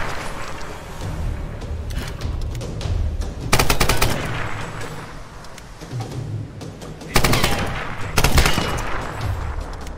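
Gunfire from cannons in a Tomb Raider game set in a shipwreck, with rapid bursts of shots over a rumbling background and several sharp, loud volleys spaced apart.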